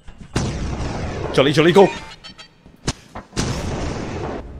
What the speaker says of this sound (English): there was explosions behind you